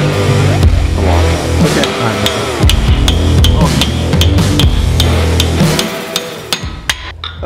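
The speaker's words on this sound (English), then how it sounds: "try and hammer out the axle" Repeated sharp metal hammer strikes on a Nissan R35 GT-R axle ring out at an uneven pace, loud and close, with clanking and some scraping between blows.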